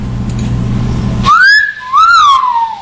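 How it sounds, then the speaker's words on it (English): A recorded whistle call: after a brief low rumble, two loud, clear, rising-and-falling whistle notes sound one after another, close and prominent. "Oh, we'll do the whistle call."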